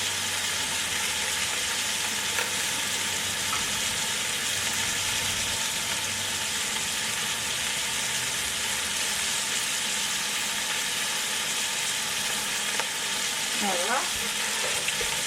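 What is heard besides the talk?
pot roast searing in a pan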